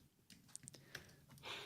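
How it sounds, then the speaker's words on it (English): Quiet typing on a computer keyboard, a few scattered soft key clicks in an irregular rhythm over faint background noise, brief and close. "Sorry, typing"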